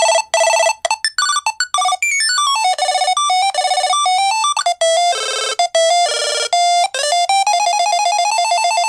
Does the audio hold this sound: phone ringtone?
yes